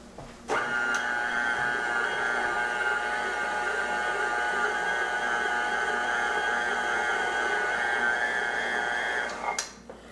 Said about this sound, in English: And now we give it a mix.